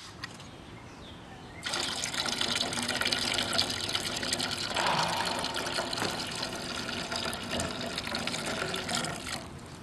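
Beer, a can of National Bohemian, pours into a crab steaming pot that already holds a little water, a steady liquid splash and gurgle that starts after a quiet moment and runs on to the end.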